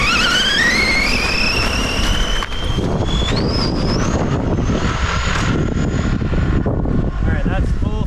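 A Team Associated Rival MT10 RC monster truck with a Hobbywing brushless motor at full throttle, a loud rising electric whine that climbs in pitch over strong wind buffeting, with a voice speaking briefly.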